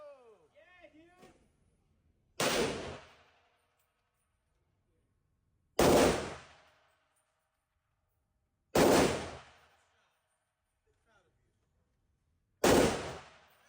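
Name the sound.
machine gun firing at a Las Vegas shooting range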